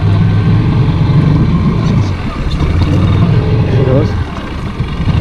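A Polaris Sportsman 850 XP ATV fitted with a snorkel, its engine roaring and revving hard as it pushes through a water-filled channel, loud and close, with a voice speaking briefly over it.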